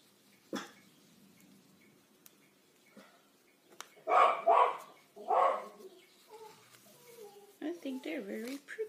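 A dog gives two loud barks in quick succession amid quiet room sounds, with a voice talking briefly near the end.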